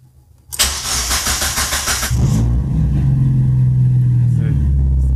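A Mazda MX-5 engine cranks and fires up, then settles into a steady, rough cold idle during warm-up, heard close and loud with a raised rumble that drops to a lower drone.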